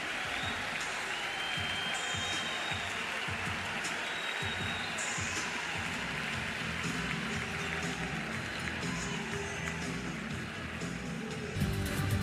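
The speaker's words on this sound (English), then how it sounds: "Kaysen Evans will get a great round of applause for his effort tonight for the LSU Tigers." Stadium crowd applause at Alex Box Stadium for an LSU Tigers pitcher leaving a college baseball game against Oklahoma, a broad, steady wash of clapping and cheering that holds for the full stretch without letup.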